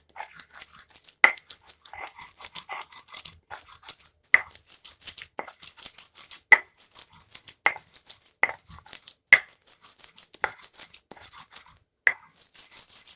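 Chili with shallots, garlic and salt being hand-ground for sambal lado, heard as a run of sharp, irregular pounding and crushing knocks, close and fairly quiet, with no talking.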